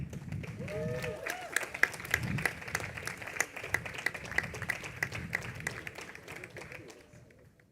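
An audience at an award ceremony applauds with many overlapping claps, a dense patter that holds for several seconds before tapering away at the end.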